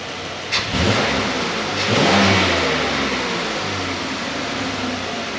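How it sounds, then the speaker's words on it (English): A car engine snaps up to a quick, loud rev from idle and then settles into a sustained, steady drone, heard close with no voices. "I'll go ahead and give you a snap throttle so you can see."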